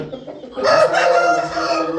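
Young roosters, cockerels hatched in late summer, crow in a farmyard, one strained crow rising loud and close for over a second and trailing off, with clucking and a second bird faintly behind.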